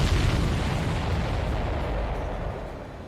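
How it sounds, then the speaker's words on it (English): Railgun shot and blast in the Ace Combat 7 video game: a loud, broad rumbling roar that fills the whole clip and slowly tapers off, with no voices. "Firing railgun."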